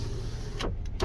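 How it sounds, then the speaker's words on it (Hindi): A car's electric power window is lowered, a short steady motor whine under a low idle hum that ends with a soft thunk as the glass stops, heard close up inside the vehicle. "जो शीशे हैं, जैसे हम इसको डाउन करेंगे, ये देखिए आवाज़ जो आप सुन रहे हैं"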